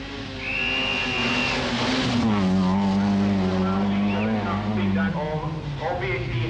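Nissan rally car on a forest stage at the 1985 Cumbria Rally, engine droning and shifting pitch with revs as it drives past, steady and fairly close, with a commentator talking over it.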